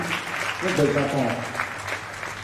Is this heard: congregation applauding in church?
yes